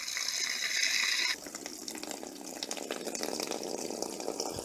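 Water gushing out of the drain of a 2005 Keystone Retreat RV water heater, a loud rushing pour that drops suddenly to a softer steady trickle and splash.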